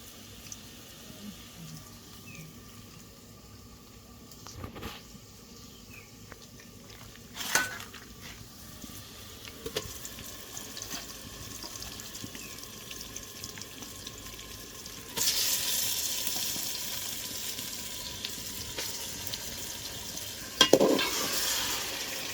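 Onions frying and being stirred in a pot, a soft continuous sizzle with scattered scraping and clinking of the spoon against the metal, growing louder and hissier toward the end, with no talk.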